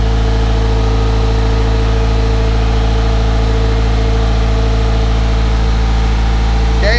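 A Mitsubishi Evolution 6 engine idles at around 1600 RPM, a loud, steady, unbroken low drone close by, with no talk over it.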